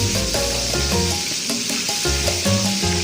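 Chicken frying in hot oil while being basted to crisp the skin, a steady loud sizzle and hiss close up, with crackling pops throughout and no speech.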